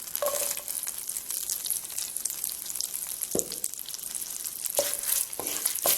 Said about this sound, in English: After butter is melted, add green chilies, curry leaves and pandan leaves.